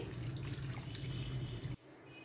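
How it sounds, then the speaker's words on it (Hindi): About two cups of water pour steadily into a mutton karahi with softened tomatoes, a close, continuous rushing splash that stops abruptly near the end. "अब हम यहाँ पर पानी ऐड करेंगे"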